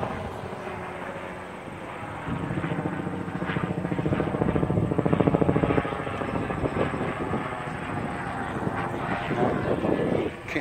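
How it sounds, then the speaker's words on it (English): A green helicopter passes overhead beside a protest fence line outdoors, its rotor throbbing in a steady, rhythmic drone that swells louder midway and stays strong to the end. "It's a green helicopter."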